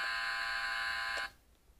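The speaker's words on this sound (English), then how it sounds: "they all the different doors, they have this different doorbell" Doorbell button on a mystery box pressed, giving a steady buzzing electronic tone that holds for over a second then cuts off abruptly, close and clear with no speech.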